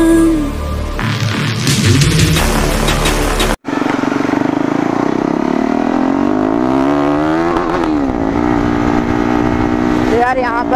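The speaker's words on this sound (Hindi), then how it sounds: "यहाँ पर मैं राइड कर रहा हूँ KTM ड्यूक 390" Engine of a modified KTM Duke 390 motorcycle being ridden, loud and close, with revs that rise and fall in sweeping pulls after an abrupt cut from a different loud sound at the start.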